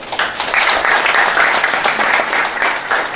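A crowd at a provincial governor's event in Congo claps loudly and continuously, a dense, even wash of applause that holds steady from start to finish.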